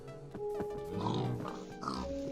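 Pigs in Minecraft on PS4 grunt and oink several times in close succession over quiet game background sound.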